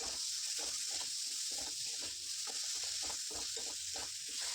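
Garlic, green chili, ginger and tomato sautéing in a pan for egg curry, with a steady close sizzle and rhythmic scraping stir strokes, without any talking.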